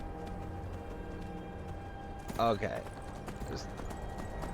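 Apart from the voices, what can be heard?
horse hooves while riding in Skyrim video game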